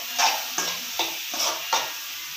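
Garlic fries in hot oil in a pan with no ginger. Five brisk scraping strokes of a spoon come at an even rhythm over a soft, continuous sizzle, close up and with no talking.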